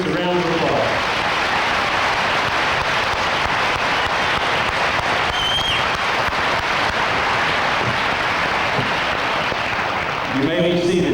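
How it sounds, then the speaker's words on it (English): An audience at a graduation ceremony applauds scholarship recipients, a dense, sustained roar of clapping filling the room for several seconds, with a few voices just before and at the end. "Please give these scholarship recipients a round of applause"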